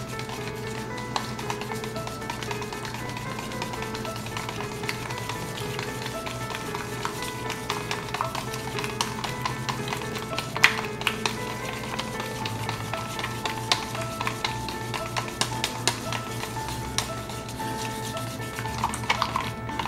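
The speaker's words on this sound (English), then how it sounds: "So we're just gonna go ahead and stir this all together here." Coral pour medium being stirred together in a container, a steady scraping and clinking that goes on throughout with small knocks scattered through it and no talking.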